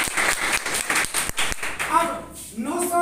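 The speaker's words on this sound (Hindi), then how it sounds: "एक बार जोरदार ताली का।" An audience at an indoor business meeting claps in short, loud rounds with quick rhythmic bursts. Talk and murmuring from the room mix in toward the end.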